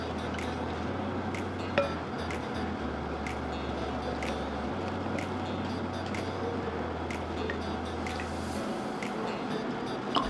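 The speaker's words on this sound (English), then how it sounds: "then I transfer into this mixture gently and I stir" A milk mixture for homemade yoghurt is stirred gently in a container, with soft, faint liquid swishes and a few light clinks against the vessel under a steady low background hum.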